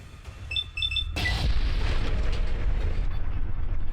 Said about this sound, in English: Oh my gosh, the explosions!